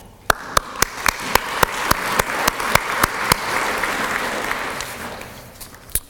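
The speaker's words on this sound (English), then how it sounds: "So I believe everyone here this morning deserves a round of applause." An audience at a human rights awards breakfast claps. Distinct sharp claps come first, then the applause swells into dense crowd clapping that tapers off, with a final lone clap.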